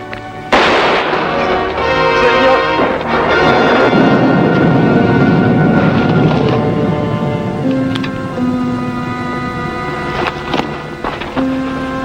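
A single sharp gunshot from a classic western TV drama cracks out near the start, then a swelling dramatic orchestral score carries on for the rest of the clip.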